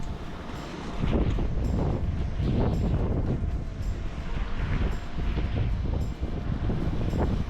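Strong wind gusting at the foot of a sea cliff near Arbroath, Scotland, a continuous roar that buffets the microphone and swells loud and near, with no voices.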